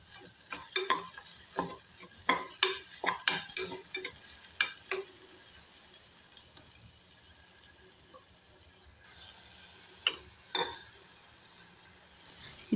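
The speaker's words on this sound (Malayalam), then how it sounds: "ഇനി നമുക്ക് ആ പാനിൽ വെച്ചിട്ട് തന്നെ നമ്മൾ തേങ്ങയും കൂടി വറുത്തെടുക്കാം." Grated coconut roasts in a pan, stirred in a quick run of scraping strokes under a faint sizzle. The stirring pauses, then a few more strokes come near the end.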